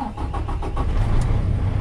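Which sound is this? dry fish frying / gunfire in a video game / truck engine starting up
truck engine starting up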